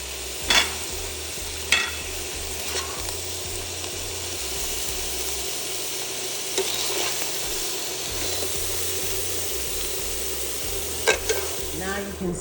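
Beef drippings sizzling in a pan after the meat is removed, a steady close hiss of frying fat with occasional clinks and scrapes of a utensil against the pan, no talking.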